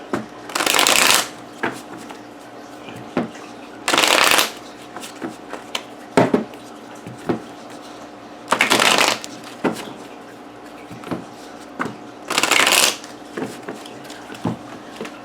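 Golden Tarot cards shuffled in four loud riffling bursts about four seconds apart, with soft taps and handling noises between them and no talking.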